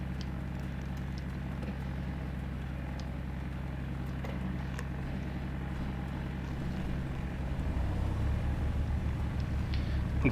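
Piper Cherokee light aircraft engine in the A2A flight simulator, a steady low droning rumble that shifts and roughens near the end as the engine catches and settles.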